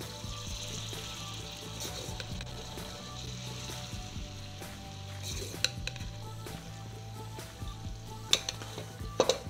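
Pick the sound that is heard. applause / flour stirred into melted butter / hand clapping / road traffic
flour stirred into melted butter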